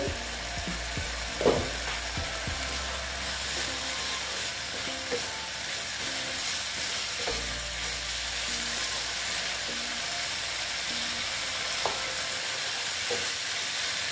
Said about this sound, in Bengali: ঢেকে তারপরে আমি আবার ডালের সঙ্গে কষিয়ে নিচ্ছি